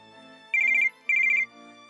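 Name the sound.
phone ringing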